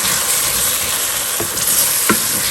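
Chicken and chana dal sizzle with spices in a hot pan, a loud, steady frying hiss with a couple of brief spoon scrapes near the end.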